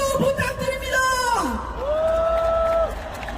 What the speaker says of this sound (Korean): 이 동지들에게 뜨거운 박수 부탁드립니다.